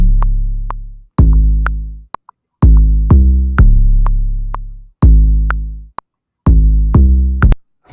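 A trap beat built in Soundation pounds with a stretched Spins 808 bass, deep booming hits in short repeated bursts with sharp clicks and snaps between them, loud and without any voice.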